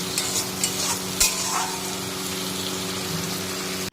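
Masala stir-fries in a pan for a tilapia fish curry, giving a continuous close sizzle with scraping stirring strokes and one sharp clank of a utensil partway through.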